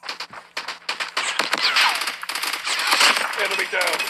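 Rapid bursts of gunfire in the mobile shooter game Call of Duty Mobile, loud, dense repeated shots with short pauses, clustered close together throughout.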